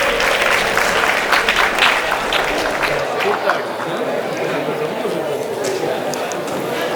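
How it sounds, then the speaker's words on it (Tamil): Applause at a film festival award ceremony, a loud burst of clapping from the audience that fades after a few seconds into a murmuring crowd. "இங்கே உங்கள் பலத்த கரகோஷங்களோடு"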